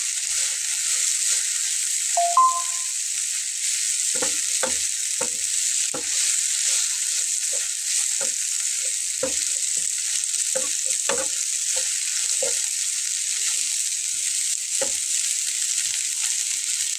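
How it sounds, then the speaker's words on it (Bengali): Shrimp and yardlong beans fry in a pan with the lid loosened, giving a constant bright sizzle punctuated by a run of scattered clicks and scrapes from stirring, heard close and unbroken. "ঢাকনাটা আলগা করে এখন একটু ভাজা ভাজা করে নেব।"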